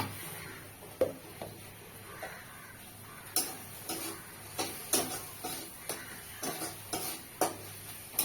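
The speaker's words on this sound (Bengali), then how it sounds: "মশলাটা কষিয়ে নেবো" Spices with turmeric sauté in a pan with a steady close sizzle, broken by a regular series of sharp scraping and tapping strokes from stirring.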